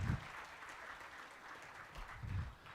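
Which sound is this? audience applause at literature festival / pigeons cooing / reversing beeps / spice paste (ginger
audience applause at literature festival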